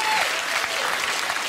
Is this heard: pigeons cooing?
no